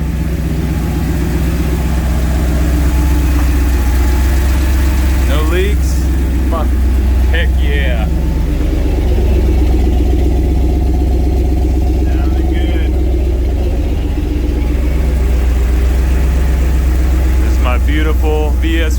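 A turbocharged fuel-injected Ford 460 big-block V8 with an S480 turbo idling steadily, a loud, constant low rumble throughout with people talking over it.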